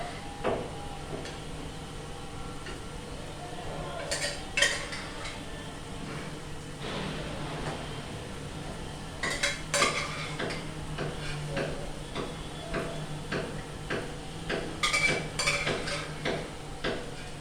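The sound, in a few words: scooping chickpeas with slotted spoon, draining soda water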